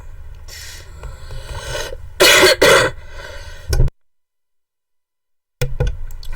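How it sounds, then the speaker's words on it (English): A person coughs several times in harsh, loud bursts close to the microphone, then falls completely silent for a moment before a last short sound. "Sorry, I didn't want to make you guys hear me cough."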